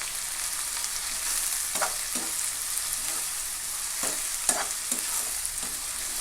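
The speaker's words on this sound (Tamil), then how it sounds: "இதெல்லாம் சேர்த்துட்டு ஒரு 2 நிமிஷம் நல்லா நெய்யில் வதக்கலாம்." Steady sizzling of spices frying in hot ghee fills the clip, with occasional soft stirring scrapes in a pan; no voices.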